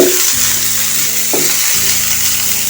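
Meat frying in a small amount of oil in a pan for samosa filling, a steady close sizzle with a low crackling hum throughout and a few brief stir-like bursts.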